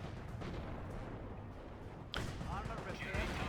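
Booming artillery fire in the World War II strategy game Company of Heroes, a dense rumbling barrage under continuous battle noise with a sharp blast partway through and talk layered over it.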